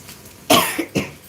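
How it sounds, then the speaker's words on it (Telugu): A single loud, close cough followed by a couple of smaller throaty coughs in quick succession. "దగ్గు వచ్చేస్తుంది నాకు"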